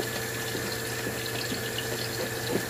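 Tap water runs steadily into a sink while dishes are washed with soap and water, a continuous close rushing hiss with a low hum beneath it and no talking.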